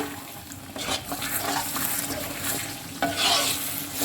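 Oil sizzles steadily as a utensil scrapes and stirs onions through a frying pan, with a few louder scraping strokes near the end.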